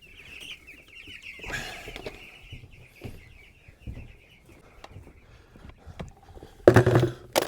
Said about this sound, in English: I guess I gotta take care of these baby chickens.